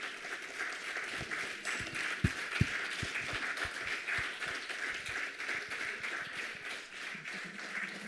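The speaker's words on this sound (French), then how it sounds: "on va les applaudir très fort" Audience applause at a scientific day event for the Gérond'if team, a steady crowd clapping over several seconds with a few louder individual claps standing out near the front.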